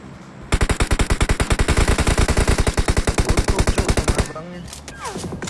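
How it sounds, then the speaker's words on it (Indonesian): Rapid automatic gunfire in a shooter video game: a loud, steady string of evenly spaced shots hammering for several seconds, then cutting off into quieter game sounds. "Nembak lagi dari kiri."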